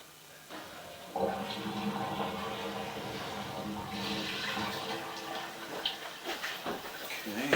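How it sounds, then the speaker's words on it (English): A household toilet flushes nearby with a sudden rush of water that swells into a long, hissing gurgle, with the bowl draining and refilling in uneven surges toward the end. "I'm going to flush the toilet real quick"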